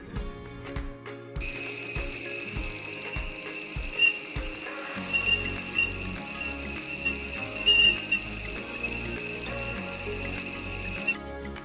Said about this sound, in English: A pleasing whistling sound it is, not too loud or not too soft.